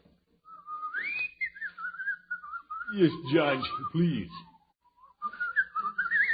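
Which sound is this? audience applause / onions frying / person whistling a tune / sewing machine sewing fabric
person whistling a tune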